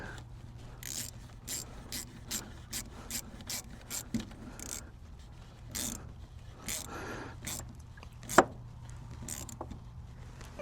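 Quick bursts of a hand ratchet tightening a fitting on a diesel heater, close and fairly quiet, clicking in short irregular runs with pauses between strokes and one sharper knock.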